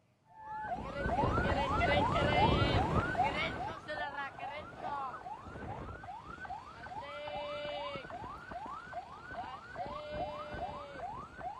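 Ambulance siren wailing behind a reckless motorcyclist riding hands-free on a road, a loud, repeating rising-and-falling yelp with a second horn-like tone joining midway, under traffic noise and talk.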